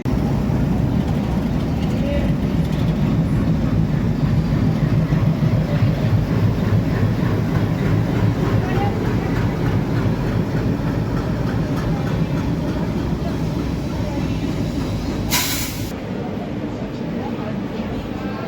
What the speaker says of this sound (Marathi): एक वाजून सत्तावन्न मिनिटांनी मित्रांनो परभणी जंक्शनवरून आपली ट्रेन निघालेली आहे